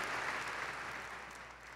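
Sustained applause from a church congregation during a sermon, a broad continuous wash of clapping heard at moderate distance and slowly fading.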